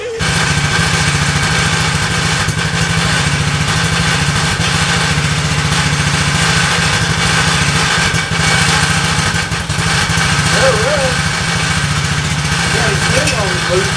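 A Coolster 110 four-wheeler engine running steadily after a carburetor fix, a loud continuous buzzing drone close by for the whole stretch, with faint voices near the end.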